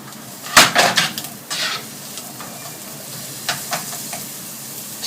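Half a diced onion and half a diced stick of celery hit a pan for vegan risotto, already holding garlic, with a sharp burst of sizzling that settles into a steady fry, plus a few stirring scrapes and clinks against the pan.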